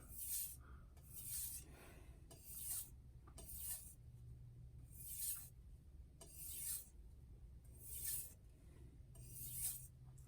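A knife blade is rubbed along a medium grit sharpening stone in repeated rasping strokes, roughly one every second, quiet and close with faint pauses between passes.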